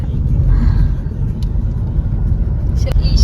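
A car is driven on the way to a dance performance, and a steady low road and engine rumble from inside the vehicle continues throughout. Faint voices of passengers can be heard beneath the rumble.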